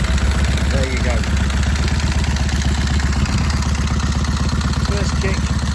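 A 1929 Indian 101 Scout motorcycle with a Mongoose carburettor runs after a kick start, its engine chugging steadily and loudly at a fast, even idle with a clattering mechanical edge.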